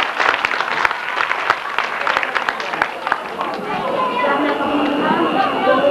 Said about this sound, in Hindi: मोहम्मद असद, तालियों की गूंज में मोहम्मद असद।